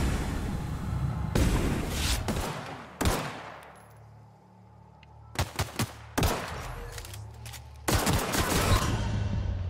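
Gunfire from a firefight in The Outer Worlds video game comes in loud, abrupt bursts of rapid shots separated by short pauses, with a quieter lull in the middle before the shooting resumes.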